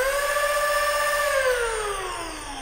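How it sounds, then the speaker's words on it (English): A Tungsten V3 Rapidstrike foam blaster motor spins at its highest setting, giving a loud, steady high-pitched whine that holds and then slowly falls in pitch as it winds down. "If we give it to the highest,"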